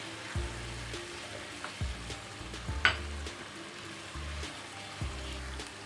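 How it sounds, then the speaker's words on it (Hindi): Red chilli, salt, coriander and turmeric are stirred in a frying pan, a faint crackling sizzle with low intermittent scrapes and one sharp clink near the middle. "ये सारी चीज़ें हम इसमें डाल देंगे, इसको करेंगे मिक्स।"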